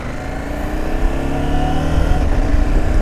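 A KTM 790 Adventure motorcycle engine pulls steadily and loudly through rising revs as it accelerates, gear changes slipping by smoothly with the quickshifter, a continuous close drone without speech.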